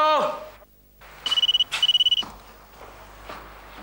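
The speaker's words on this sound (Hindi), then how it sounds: "अरे फोन उठाओ, कितनी देर लगती है छोटा सा फोन उठाने में।" A phone rings in two short trilling bursts, fairly close, after a brief voice at the start, with faint background noise.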